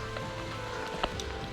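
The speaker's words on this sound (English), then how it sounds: "Now it's starting to rain." Rain beginning to fall beside a river during a fishing trip, light scattered drops pattering on nearby surfaces over a low steady hiss, with a few sharper taps.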